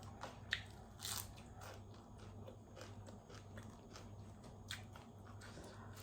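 Raw fresh vegetables bitten and chewed close up during a meal with minced beef larb and sticky rice, giving repeated crisp crunches and moist chewing over a steady low hum, with no talk.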